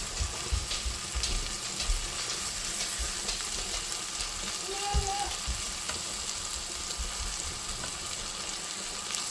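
Chicken seasoned with smoked paprika fries in a pan, giving a steady, dense sizzle with faint crackles and a few low thumps from handling.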